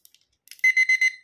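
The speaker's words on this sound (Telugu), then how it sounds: "చూసారా, టైం రావగానే గట్టిగా అలారం కొట్టుకుంటుంది." A table clock brought from Korea rings its alarm: after a few faint clicks, a loud, close electronic beeping starts in rapid bursts of four pulses, with no talk.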